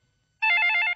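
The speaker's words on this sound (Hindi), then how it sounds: "फोन बज रहा है" A telephone rings in a scene from the 1996 Hindi film Khilona, one sharp electronic warbling ring starting midway and holding loud and steady to the end, with near silence before it.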